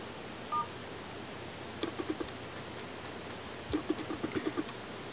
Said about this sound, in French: menu, étoile dièse 0, étoile dièse.